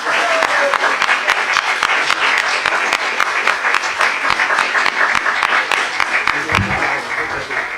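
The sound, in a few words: audience applause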